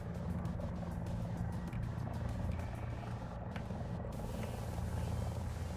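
A helicopter in the combat game War Thunder makes a steady low rotor and engine drone that runs unbroken and fairly loud, with faint game noises layered over it.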